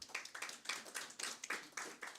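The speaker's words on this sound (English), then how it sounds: "Let's applause for our introduction" An audience at a political inclusion forum in Kenya claps together in a steady, fairly close burst of applause with no speech over it.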